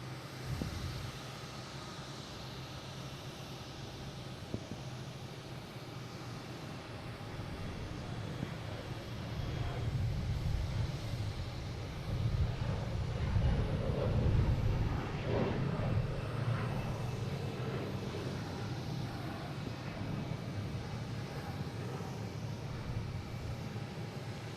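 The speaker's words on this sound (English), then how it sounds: "And we have a Delta taking off" A Delta jet takes off at Boston Logan International Airport: a broad, steady engine roar that swells through the middle and then holds at a sustained rumble, heard from some distance.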